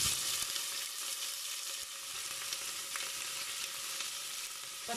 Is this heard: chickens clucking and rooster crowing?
no